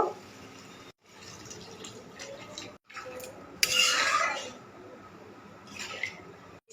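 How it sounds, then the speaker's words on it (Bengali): A little water goes into a pan of thick, well-fried potato and sponge gourd curry, a short, bright splashing hiss rising over low kitchen noise, then fading. "এবারে সামান্য জল দেব।"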